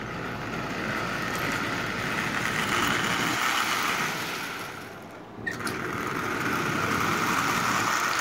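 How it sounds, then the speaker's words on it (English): A small Lionel 8310 model locomotive hums and rattles along third-rail track, a continuous whirring drone of steady loudness that dips briefly before resuming. "This little locomotive is running just absolutely splendidly"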